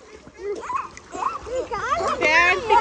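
Water splashing in a swimming pool mixes with children's excited talk and shouts, close and lively, with bursts of splashing through the clip.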